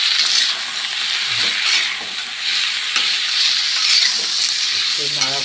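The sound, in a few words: stirring turmeric into frying food in a pan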